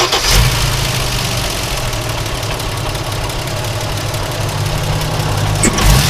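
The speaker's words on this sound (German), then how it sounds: "willst du mal anmachen, damit ihr die Ansaugung vielleicht ein bisschen hört, so ein bisschen Sound" An Opel Manta B with a 3.0 engine swap runs at a steady idle, heard close at the intake as a constant low rumble with a broad hiss. There is no talking.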